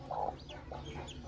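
A hen clucking near chicks and eggs, with a short louder cluck followed by softer, repeated murmuring clucks close by.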